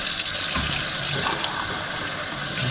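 Tap water running into a container of sapphires coated with dishwashing liquid, a steady close hiss of flowing water with small splashing shifts and no speech.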